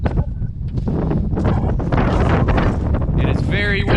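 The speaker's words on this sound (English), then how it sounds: "It is very windy. You can see those lights are getting blown around." Strong wind buffets the microphone outdoors beside a Fendt tractor hung with Christmas lights, a loud continuous roar and rumble with gusts, as someone talks over it throughout.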